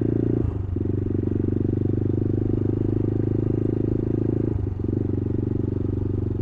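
A CCM Spitfire Scrambler motorcycle engine runs steadily, loud and close, with a deep continuous throbbing rumble and two brief dips in tone.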